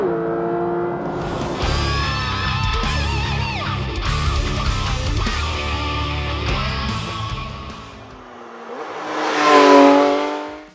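A 2022 Porsche 911 GT3 accelerates hard in second gear, its engine revving loud and high with rising harmonic sweeps, a brief drop as it backs off, then another surging rev near the end.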